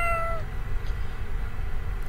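A single cat meow plays when the cat is petted in the HelloPurr app, a clear, close falling tone lasting about half a second, followed by a steady low background hum.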